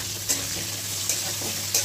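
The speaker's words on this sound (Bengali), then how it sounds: "এটাকে একদম একটু হলুদ আর নুন দিয়ে ভেজে নেব।" Kakrol (spiny gourd) frying in a pan with turmeric and salt gives a steady, soft sizzle with occasional stirring scrapes at a moderate, close level, and no voices.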